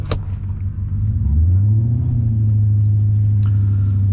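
A 1998 BMW 540i with a six-speed manual gearbox, its engine rumbling low and deep close by, then swelling into a steady, louder drone as the drive gets underway, with no talking.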